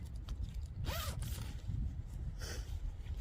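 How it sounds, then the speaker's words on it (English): A side zipper on a garment is pulled open or closed indoors: one quick rasping zip, then a second shorter zip a moment later, close and clear with no talk. "It's got some side zippers."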